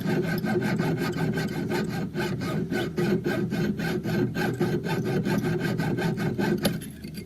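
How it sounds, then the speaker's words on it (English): A hand saw cuts through metal tubing clamped in a tube-cutting jig, making a steady rasping back-and-forth stroke rhythm that continues for several seconds, close and fairly loud, then stops abruptly near the end. "allow me to put my saw right down this slit and cut my tubing"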